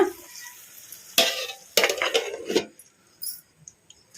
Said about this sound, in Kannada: ತಟ್ಟೆ ಮುಚ್ಚಿ ಲೋ ಫ್ಲೇಮಲ್ಲಿ ಫ್ರೈ ಮಾಡ್ಕೋಬೇಕು ನುಗ್ಗೆಕಾಯಿನ